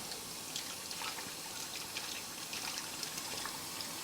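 Water runs and splashes faintly as a metal part is rinsed in a container of clean water between zinc plating steps at home, a steady low trickle with small gurgles.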